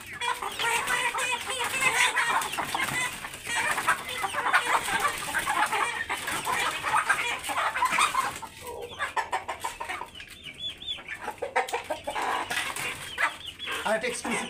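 A hill-breed rooster clucks repeatedly in short, busy bursts close by, while someone talks over it almost throughout.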